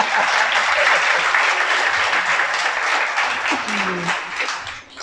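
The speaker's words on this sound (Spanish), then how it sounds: "Un aplauso," A church congregation applauds at a Sabbath service, a dense, loud and sustained wash of clapping that tapers slightly toward the end, with a few voices faintly mixed in.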